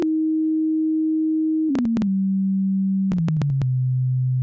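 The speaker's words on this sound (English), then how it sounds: "I'll turn on my sine wave here" A pure sine-wave test tone from digital audio software holds steady, then steps downward in pitch twice, each drop marked by brief clicks, loud and continuous with no voices.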